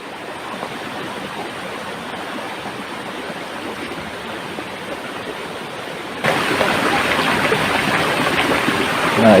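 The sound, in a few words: small river stream flowing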